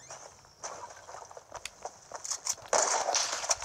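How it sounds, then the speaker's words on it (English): Footsteps from a shooter-style video game with tanks and bots, a run of soft crunching steps that grows louder and denser toward the end, with scattered clicks and game noise around them. "Is that footsteps I hear?"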